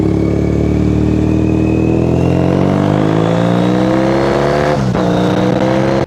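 A Triumph Bonneville T100 motorcycle engine pulls loud and close while riding, its exhaust note climbing steadily as it accelerates through the gear, with a brief dip near the end.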